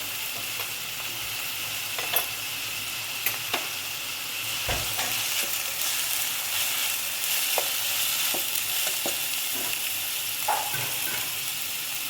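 Oil sizzles steadily as onions fry in a pan with tomatoes, green onions and turmeric, with occasional scrapes and taps of a spoon stirring them, close and continuous throughout.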